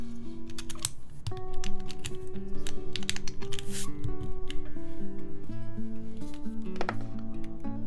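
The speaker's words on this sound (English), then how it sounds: "this is Gateron switches on an aluminum plate." Typing on a 60% mechanical keyboard built with Gateron switches on an aluminum plate, a steady, busy stream of close, crisp keystrokes and clacks running the whole time with no talking.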